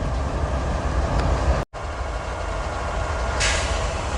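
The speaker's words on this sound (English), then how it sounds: "there goes Metrolink 618" Metrolink 618, a commuter train bound for Oceanside, passes at Commerce with a loud, steady, broadband rumble of wheels and engine close by, sustained throughout with one brief dropout.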